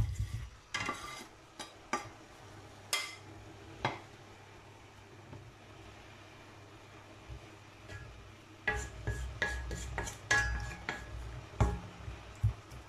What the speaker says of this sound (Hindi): अभी मैं इसमें आलू ऐड करने लगी हूँ।